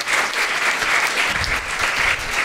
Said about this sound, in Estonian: teeme talle suure aplausi